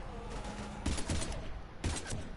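Gunfire in the video game Mass Effect 3 sounds as two short bursts of shots about a second apart over a quiet game background, moderately loud.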